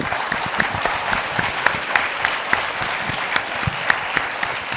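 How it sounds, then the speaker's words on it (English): An audience at a science summit lecture hall applauds a speaker, steady close clapping from a fair-sized crowd lasting several seconds without talk. "Let's give an applause to Wendelin."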